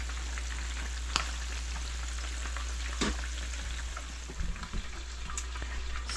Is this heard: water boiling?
yes